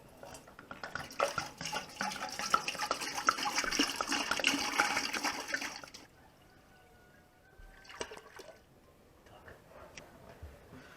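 Well water is poured from a 10-litre bucket for pickling cucumbers, a rushing, splashing pour that runs for several seconds and then stops, followed by a few faint drips and knocks in a quiet room.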